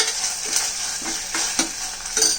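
Carrot curry frying in a pan, with a steady close sizzle and occasional stirring scrapes and clinks throughout, no voices.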